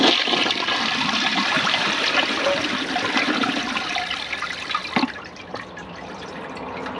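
A 1998 Ingenium toilet flushing a microfiber towel, a loud close rushing whoosh of water that gradually fades into gurgling, swirling drainage.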